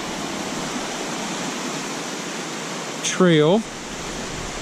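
Creek water rushing steadily over rocks at a wet crossing on the Bone Valley route toward Hazel Creek Trail, a continuous close wash of noise with a brief spoken word near the end.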